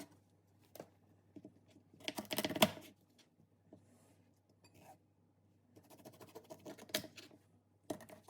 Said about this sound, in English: I'm chopping up some pineapple quinces